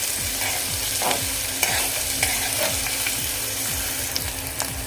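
Onion sautés in a pan for a Maharashtrian-style kang kung garlic dish, a steady close sizzle with rhythmic scraping strokes of a spatula stirring it through the oil.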